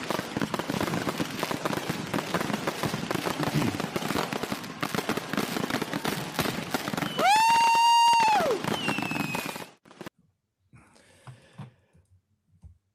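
Fireworks sound effect: dense crackling and rapid popping bursts, followed by a sustained rising then falling whistle-like tone, ending abruptly in near silence with a few scattered faint crackles.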